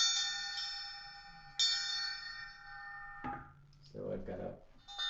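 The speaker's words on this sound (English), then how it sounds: "So this is a elephant bell." A synthesized elephant bell patch played on a synthesizer: two bright, metallic strikes that ring and slowly decay, followed by a short burst of talking and a further chime starting at the end.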